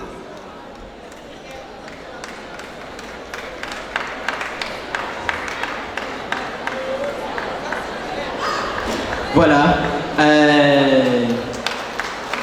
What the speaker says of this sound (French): il faut applaudir le lauréat, s'il vous plaît